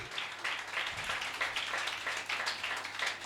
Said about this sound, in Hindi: तालियां बजाएं जिंदगी के लिए